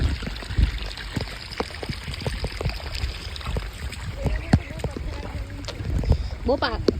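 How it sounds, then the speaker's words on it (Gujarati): Water flowing and trickling into a farm field, a continuous rushing and splashing close by, with scattered knocks and footsteps over it and a voice speaking briefly. "અહીંથી પાણી બધું ખેતરમાં આવતું છે."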